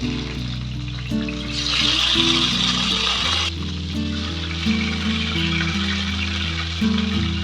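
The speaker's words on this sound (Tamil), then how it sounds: "நம்ம கொஞ்சம் கொஞ்சமாக ஒரு 4-5 பீஸ் அப்படி போட்டு வறுத்து எடுக்கலாம்." Pre-cooked chicken pieces fry in hot oil a few at a time, giving a steady close sizzle with a louder burst of crackle as more pieces go in, under background music and no talk.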